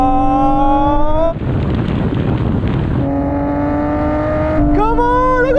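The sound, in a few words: Nissan GT-R cars accelerating in rolling drag race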